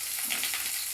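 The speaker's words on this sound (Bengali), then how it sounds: "সেদ্ধ ডিমগুলো তেল দেওয়া কড়াইয়ে একের পর এক ছেড়ে দেওয়া হলো।" Whole boiled eggs frying in hot oil in a wok, a steady close sizzle and crackle throughout with no voices.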